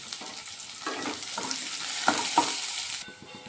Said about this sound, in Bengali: রসুন আর পেঁয়াজগুলোকে একটু ভালোভাবে কষিয়ে নেব প্রথমে